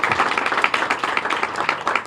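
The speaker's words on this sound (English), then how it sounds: "you can clap for that" A press conference audience applauds, dense steady clapping from many hands filling the room at close range with no voices over it.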